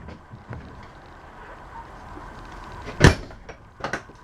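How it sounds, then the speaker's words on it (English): The door of a 2016 Coachmen Apex Ultralite 215RBK travel trailer is closed with one sharp close thud, followed by a couple of lighter clicks of the latch, against quiet outdoor background. "close the door"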